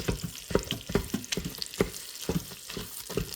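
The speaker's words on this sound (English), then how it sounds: "Go ahead and break it up a little bit. And let's get it cooking." Mild Italian sausage breaking up and frying in a pot, crackling sizzle with rapid repeated scraping and stirring strokes, close and steady, no talk.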